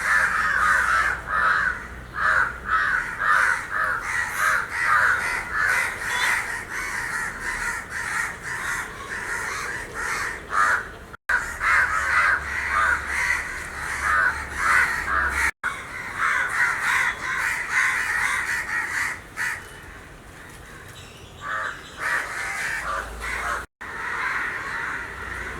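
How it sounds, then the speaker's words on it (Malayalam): A large flock of crows gathered in front of a house caws loudly and continuously, many overlapping harsh calls near and far with no talking. "ഉള്ള കാക്കകൾ മുഴുവൻ എൻ്റെ വീടിൻ്റെ മുമ്പിൽ വന്നിട്ടുന്നുണ്ട്"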